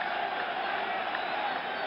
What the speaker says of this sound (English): Crowd roaring his name, roaring for the Yankees.